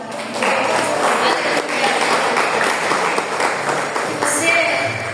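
Loud, sustained applause from a church congregation at a Portuguese-language worship service, dense clapping holding steady throughout with a few brighter claps near the end.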